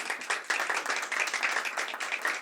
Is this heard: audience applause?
yes